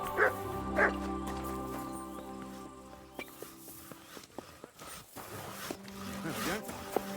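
A dog in the video game Kingdom Come Deliverance II yips, whimpers and gives short barks amid footsteps and faint game music, with a person speaking over parts of it.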